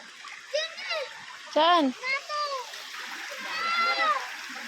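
A person jumps into the water at a waterfall, making a brief splash amid flowing water while children and others talk and call out over it.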